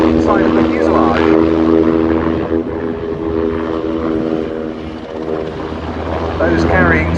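A military jet displaying at the RAF air show at Fairford, a steady loud engine roar with a droning tone across the whole stretch while a commentator talks over it.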